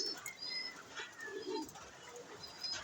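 Pigeons in a fancier's loft making soft, faint cooing and chirping calls over a steady low background hum, scattered and overlapping, heard from a short distance without talk.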